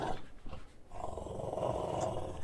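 Dog growling while tugging on a fringed ball during play, a low continuous rumbling growl that swells and stays fairly loud after a brief lull near the start.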